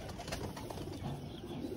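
Domestic pigeons coo softly and continuously in a loft, a low burbling murmur close by with a faint rustle of birds and no talk.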